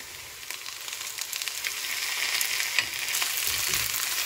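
Chopped tomatoes hit frying onions in a pan while cooking aloo gobi, giving a steady close sizzle with a few soft scraping clicks, no voices.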